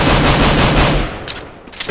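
Loud rapid gunshots from the video game CS:GO, a dense burst of firing that cuts off after about a second, followed by a few sharper isolated shots.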